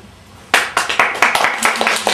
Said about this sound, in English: Here I am standing here feeling miserable and you're applauding.